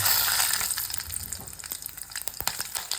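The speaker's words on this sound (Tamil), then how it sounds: "கடுகு போடுறோம்" Mustard seeds sizzle and pop in hot oil in a pan, making a close, dense frying hiss scattered with sharp crackles and spits that grow more irregular toward the end.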